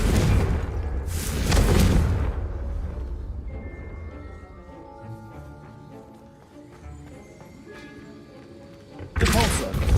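Confringo explosive spell in the video game Hogwarts Legacy: a heavy booming burst near the start and another at the end, with quieter tonal effects and low rumble between.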